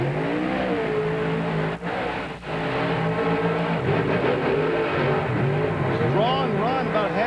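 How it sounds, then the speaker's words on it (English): Monster truck engines rev and roar during a drag race, loud revving and throttle blips with rising and falling pitch, heard alongside crowd and arena commentary noise. "You could actually hear Runte burping the throttle on the"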